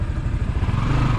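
Motorized tricycles pass along a street with a steady, close low engine drone and rattling clatter filling the whole moment, without voices.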